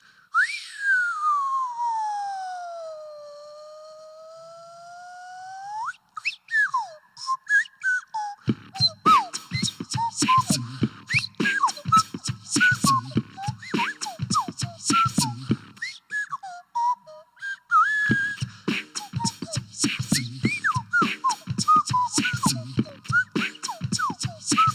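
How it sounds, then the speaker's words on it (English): A nose whistle played live before an audience at a show: a long sliding tone opens alone, then a busy run of quick chirping, warbling pitches over rhythmic backing sounds. "let's hear it for the nose whistle"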